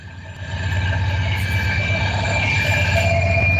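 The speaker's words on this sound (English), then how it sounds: "And here comes the train." Train passing by near a fishing spot, a loud steady rumble with droning engine tones swelling in after a quieter start and holding close and continuous.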